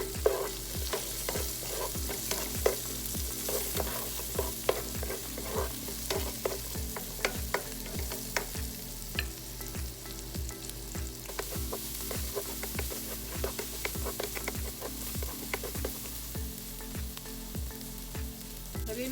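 Onions sizzle steadily in a frying pan for beef morcon while a utensil stirs them in a regular, repeated scraping rhythm, close up with no talking.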